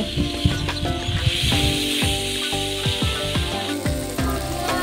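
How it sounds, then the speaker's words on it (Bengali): A pan of egg, ridge gourd and pumpkin flowers with salt and turmeric sizzles loudly and steadily, with repeated scraping strokes of a spatula stirring through the mix close up. "এবারে ভালোভাবে নেড়ে নেব"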